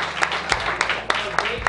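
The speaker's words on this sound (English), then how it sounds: "let's give Will a round of applause." An audience at a company gathering claps for a colleague, a short burst of scattered hand claps over the room, with a voice talking over it.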